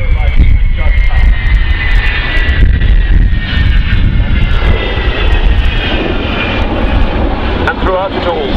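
Avro Vulcan bomber XH558 flying at the RAF air show, a loud, sustained jet roar with a slowly shifting whine running throughout, while a commentator talks over it.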